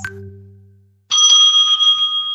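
A bell rung by a timekeeper at a student debate, giving a bright, sustained metallic ring that carries on after a faint earlier tone, heard alone and fairly loud.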